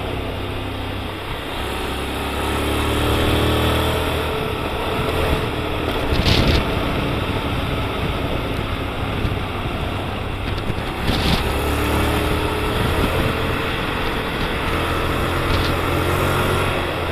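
A 2017 Honda X-ADV 750 motorcycle with a DCT gearbox, in sport mode, pulls through an overtake on the road. Its engine drones loud and steady with rising pitch under constant wind rush, with no talking.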